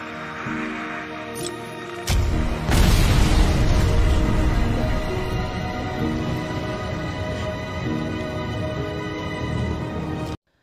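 A bomb slips from a man's hand and explodes among zombies in the 2019 zombie film Tidal Wave, a heavy deep boom after a brief lead-in, followed by a long rumbling decay that lasts several seconds.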